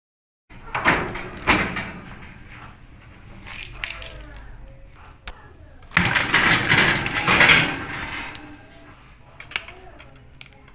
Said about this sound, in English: this is the electric oven. This is what we are going to use for baking. Let me open, you see the inside.